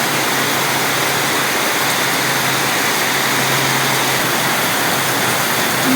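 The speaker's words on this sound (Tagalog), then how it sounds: "Ayan, oh. Umuulan." Steady rain pouring down outdoors in the Philippines, a loud dense hiss with no pauses, close and continuous with a faint low hum beneath it.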